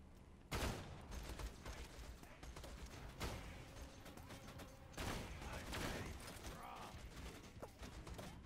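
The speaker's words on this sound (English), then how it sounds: "So here I'm just going to chuck some grenades because I need health." Grenade blasts and gunfire in the video game Borderlands 2, with sharp loud explosions near 0.5, 3.2 and 5 seconds over a continuous clatter of combat noise and mechanical clanks.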